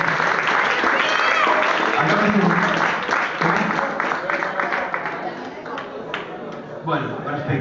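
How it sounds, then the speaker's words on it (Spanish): A concert crowd at a charity music event applauds, loud dense clapping that starts strong and gradually thins and fades, with a voice talking over it partway through. "creo que merecen un aplauso más fuerte que el de recién"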